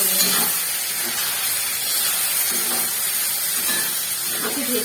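Chilli chicken fries in sauce in a pan, giving a continuous close sizzling hiss with faint bursts of crackle and a few muffled background sounds.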